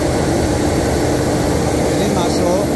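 A Toyota Kijang LGX engine runs at 2000 RPM after a tune-up, giving a loud, steady, close rumbling drone that holds without a break.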